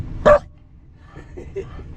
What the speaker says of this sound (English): There, Bella, the dog that seldom barks.